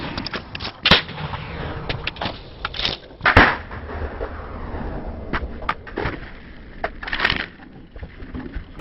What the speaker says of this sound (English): the first weapon I would get is this net gun